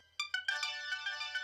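A mobile phone ringtone rings with a bright, repeating electronic melody, fairly quiet and steady, with no voices.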